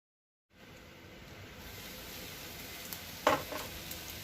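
Poddu batter hits a hot pan and breaks into a steady, soft sizzle that builds and holds, broken once by a brief sharper clink, with no one speaking.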